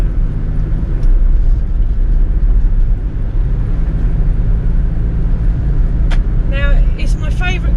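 A Rover P6 2000 Automatic saloon drives through town, its steady low engine and road rumble continuous and close throughout, with a few brief squeaks near the end.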